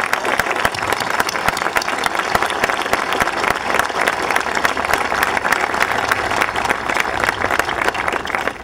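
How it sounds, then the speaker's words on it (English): A crowd at a Westchester University event gives a long, steady round of applause, with dense clapping from many hands that stays loud and even throughout. "I think we ought to give them just a special round of applause"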